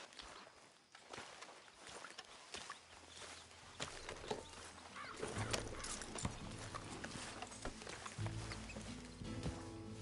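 Horse hooves in the Western game Red Dead Redemption 2: irregular clip-clop steps on the ground, faint at first, then thicker with shuffling and low tones as the horse moves closer, without talk.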